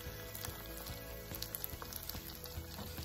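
Canned corn with peppers and bacon simmering in butter in a pan, a steady close sizzle with faint bubbling pops running continuously throughout.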